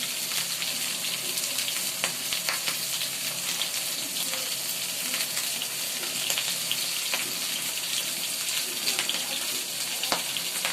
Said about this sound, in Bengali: কিভাবে মাছ ভাজি করা হয়